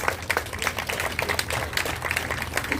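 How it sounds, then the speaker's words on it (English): An audience claps at an outdoor sign unveiling ceremony, scattered sharp hand claps forming moderately loud applause that carries on steadily without anyone speaking. "How about another round of applause?"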